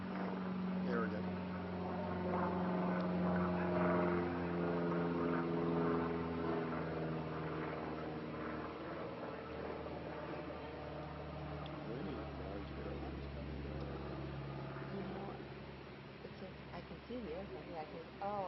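Small plane flying overhead near Sedona airport: a steady low engine drone that swells through the middle of the clip, with people talking over it throughout.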